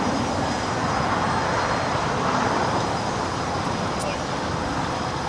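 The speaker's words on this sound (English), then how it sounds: "We're doing that Skylease Cargo 747 heading to Wuhan, China. She is now rolling down 25 right." A Skylease Cargo Boeing 747 freighter rolls down runway 25 right at LAX. A loud, steady jet engine roar fills the whole span, broad and sustained, with no pauses.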